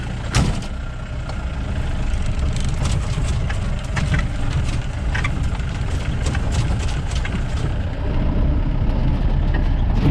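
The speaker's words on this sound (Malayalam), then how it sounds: "ഇപ്പോൾ ഞങ്ങൾ പോവുകയാണ് ഇവിടുന്ന്. ഓക്കെ, അതാ നമ്മൾ നമ്മുടെ ജീപ്പിൽ കയറി പോവുകയാണ്." A safari jeep drives along a forest road in Nelliyampathy, its engine a loud, steady low rumble throughout, with occasional rattles and knocks from the vehicle.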